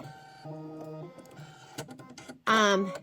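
An embroidery machine whirs and taps in short bursts as its needle stitches through glitter vinyl, ending in a louder run, with talking heard in between.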